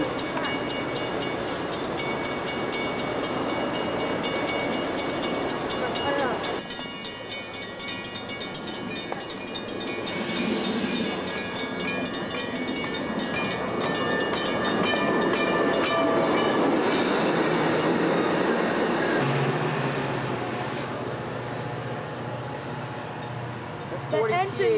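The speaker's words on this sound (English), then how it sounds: "there's gonna be another train coming from that side" A 1995 Metra commuter train passes at Dee Road in Park Ridge, Illinois, a loud rumbling, clattering roll of rail cars that swells and fades, with people briefly talking nearby.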